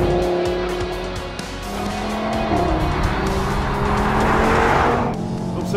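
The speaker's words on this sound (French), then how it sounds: "Oh là là, ce moteur. Écoutez-moi ce son," A 2016 Audi TT RS engine revs hard and rises in pitch with a loud, throaty roar, then drops off as it settles back to a steadier hum.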